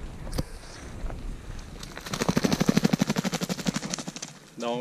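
A partridge hunt in the Abitibi woods: a single sharp shot rings out early, followed by a rapid, loud drumming burst of a partridge flushing, then a short rustle at the end.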